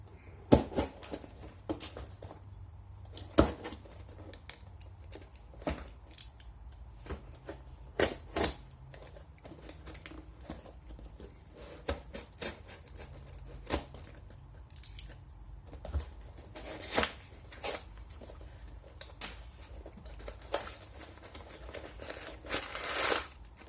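Cardboard package being cut open with scissors or a blade, a run of sharp snips, crinkles and tearing crackles scattered irregularly over quiet room tone, close and moderately loud.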